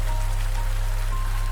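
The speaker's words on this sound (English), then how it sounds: "The rain outside is finding its rhythm now." Rain falls steadily against arched library windows, a constant even patter with a low steady hum beneath it and no voices.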